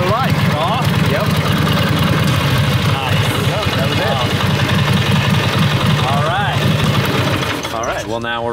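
A WWII-era motorcycle engine runs steadily after revival work, a loud, continuous throbbing idle with a rapid mechanical pulse, while voices talk over it near the end.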